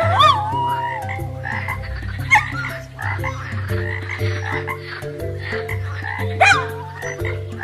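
Cartoon frog croaks in a children's animated tale, a steady run of loud, rhythmic croaks over continuous music with no voices.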